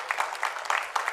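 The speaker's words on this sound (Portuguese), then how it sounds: "Vamos aplaudir todas as mulheres aqui nesta manhã?" A church congregation applauds the women present at a morning Bible study, a short burst of scattered, echoing hand claps in a reverberant hall.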